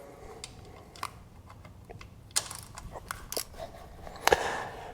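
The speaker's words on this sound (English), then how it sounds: "First step is to remove these 2 T25 screws so that we can get access" T25 screws are backed out of a BMW R1200GS motorcycle with a hand tool, producing soft scattered clicks, small metallic ticks and ratcheting taps close by at low volume.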